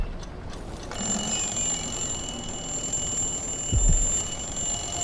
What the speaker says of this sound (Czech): budík!